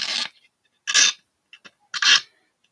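A blade scrapes the seam line inside the wheel arch of a plastic AMT 1977 Ford model car body, giving three close, short rasping strokes with small clicks between them.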